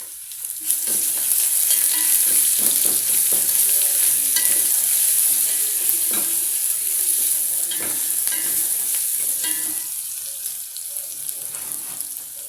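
Ginger and garlic sizzle with nearly done onions in a hot pan for beef biryani, a steady bright hiss with intermittent stirring scrapes and clinks, close and loud, without talking.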